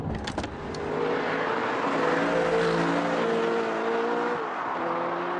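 An Audi R8's mid-mounted engine holds a steady, droning tone under way, with a brief clatter at the start and the pitch sweeping gently up and down without any sharp rev spikes, loud and close throughout.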